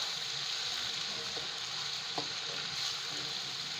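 Onions, garlic and ginger fry in a pan with a steady, even sizzle, broken by a couple of faint clicks of stirring, with no one speaking.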